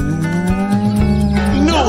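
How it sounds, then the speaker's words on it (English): A cow moos in a loud, drawn-out, low call on a farm, with musical accompaniment underneath. "No, Bartolito, that's a cow!"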